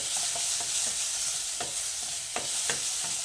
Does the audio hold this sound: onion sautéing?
yes